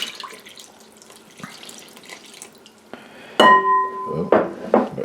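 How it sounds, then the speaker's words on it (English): Tepid water is poured into flour in a bowl for a no-knead sourdough. A soft trickle is followed by sharper splashing, with a bright bell-like ring and clinks partway through. "And to that I'm going to add the water."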